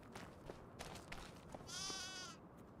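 Sheep bleat in the Farming Simulator 25 video game, a single drawn-out nasal bleat rising over a steady background hum, with a few fainter shorter calls before it.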